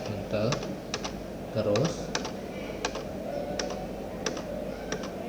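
Typing on a computer keyboard with sharp, distinct key clicks, including presses of the enter key, spaced irregularly over steady background hum while a person speaks briefly.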